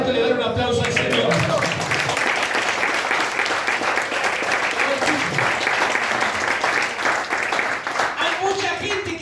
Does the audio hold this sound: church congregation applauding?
yes